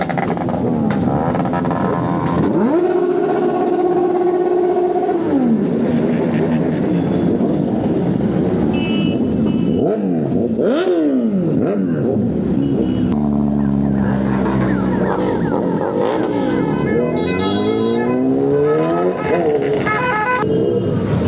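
Several superbikes on a 15 August Independence Day freedom group ride rev and ride past, making loud, continuous engine roars whose pitch sweeps up and down as they accelerate and throttle. No one speaks.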